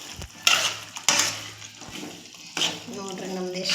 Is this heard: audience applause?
no